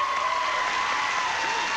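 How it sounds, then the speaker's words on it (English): Studio audience at a game show applauding a returning champion, a steady dense wash of clapping sustained throughout at moderate loudness. "Sure, you can applaud"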